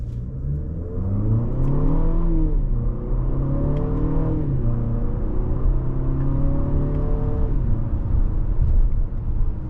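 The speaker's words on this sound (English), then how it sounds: "we took off a little bit slower, then the turbo spooled up and kicked in" A 2025 Infiniti QX60 Pure AWD with a turbocharged engine and 9-speed automatic accelerating, its engine note rising in repeated sweeps as it shifts up through gears, loud and close from inside the cabin, no talk.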